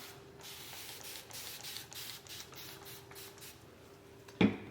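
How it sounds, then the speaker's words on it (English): Bursts of fine water spray hiss in quick succession from a misting bottle onto cabinets being prepared for painting, close and fairly soft, ending with a sharp click. "I'm just gonna spray it down with water"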